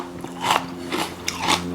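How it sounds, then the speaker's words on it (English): Spoonfuls of a chocolate peanut butter Ninja Creami frozen dessert with crunchy mix-in are bitten and chewed, three soft, close crunching bursts in quick succession, with no talking. "Hear that crunch?"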